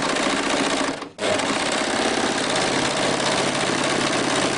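A sewing machine runs loud and close through a single layer of fabric on a kimono sleeve, a continuous motor hum broken by one brief pause near the start.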